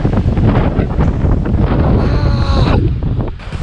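Strong, cold wind on a hiking trail, loud and continuous buffeting right at the microphone, with a gusty roar that barely eases near the end.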